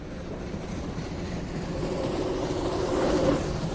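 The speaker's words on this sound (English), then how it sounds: "Let's start the train again." A moving train gives a steady rumbling roar that slowly swells louder over a few seconds, broadband and continuous, with no voices.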